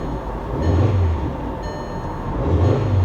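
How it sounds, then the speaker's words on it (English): Ford Mustang on air ride at the IAA show, its engine revved in two deep, close surges that rise and fall within a few seconds, with no talk over them. "Let's give it a little rev."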